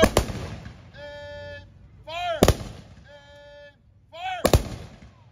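Honor guard rifles fire three sharp, loud volleys at a Memorial Day ceremony, each crack about two seconds apart and ringing out into open air, with shouted commands between shots.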